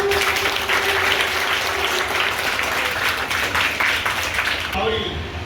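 An audience applauding at a Lions Club notebook distribution event at a primary school in Kotlav, Pardi, with dense, steady clapping that fades out near the end.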